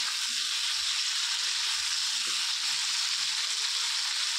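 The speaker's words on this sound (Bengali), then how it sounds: "আমি এভাবেই এটাকে ভালো করে কষিয়ে নেব" Chicken and spices fry in a pan for kosha, a loud, even sizzle holding steady throughout, broken by a few soft low knocks of stirring.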